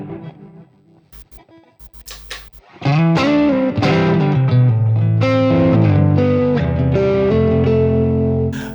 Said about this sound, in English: I'm using the Line 6 HX Stomp right now, using a Fender Super Reverb amp and a IR from a Deluxe Reverb